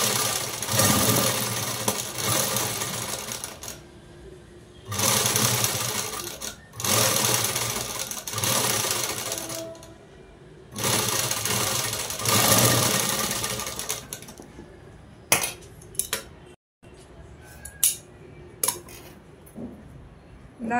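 Sewing machine stitching piping onto a blouse, running in loud, steady bursts of rapid mechanical clatter separated by short pauses and ending in brief, choppy runs, with no talking.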